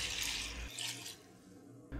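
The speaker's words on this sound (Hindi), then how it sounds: "अब आप इसमें ढाई लीटर पानी शामिल कर दें" Water pours steadily into a pot for chicken stock, then stops abruptly, leaving a faint hum before a brief clatter.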